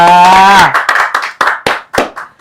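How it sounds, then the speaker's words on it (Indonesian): Scattered hand claps from a small audience welcoming a lecturer at a campus acupuncture program event, a dozen or so uneven claps that follow a brief sustained tone and fade toward the end. "tepuk tangan buat Bu Cantika."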